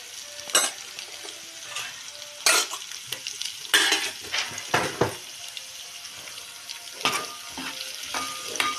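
Turmeric going into an egg and tomato curry in a frying pan, with scraping stirs and clattering strokes in bursts over a steady close sizzle, with a faint tap-water trickle at moments.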